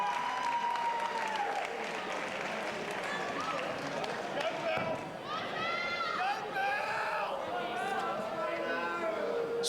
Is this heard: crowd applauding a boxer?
yes